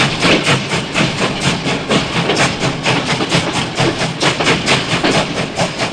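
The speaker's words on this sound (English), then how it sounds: "There was our choo-choo train." A steam-style choo-choo train chugs in rapid, even rhythmic bursts of hissing exhaust. The loud, close, continuous rhythm holds steady for several seconds as a sound effect.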